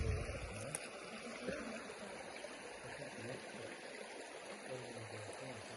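Clear mountain stream water rushing steadily over stones, a soft continuous burble heard close and fairly quiet, with no talk.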